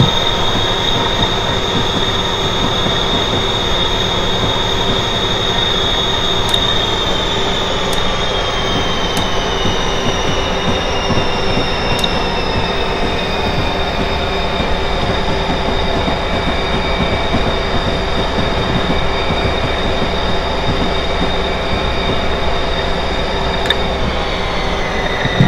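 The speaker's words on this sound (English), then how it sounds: "That train over there" A train rolls steadily along Northeast Corridor rails, a continuous loud rumble with wheel squeal and faint clickety-clack, no voices.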